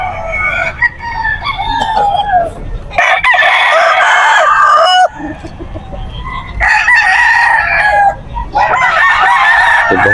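Chickens cluck and roosters crow loudly and close by in repeated bursts, several birds calling over one another, at a pet market in Bocaue.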